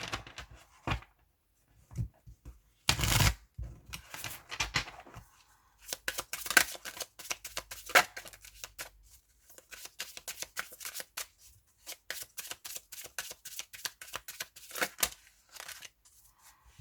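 Tarot cards being shuffled for a reading draw, a close run of crisp riffling bursts and soft flicks that start sparse and grow into steady rapid shuffling, with no speech over it.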